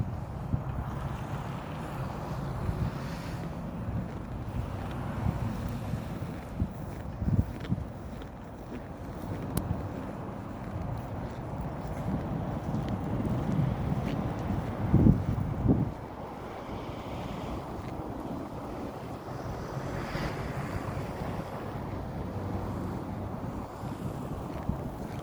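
Wind blowing outdoors during a January snowfall in Saint Petersburg, a steady rushing roar with gusty surges and microphone buffeting, with no talk.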